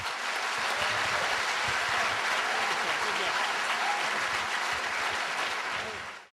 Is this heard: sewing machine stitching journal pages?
no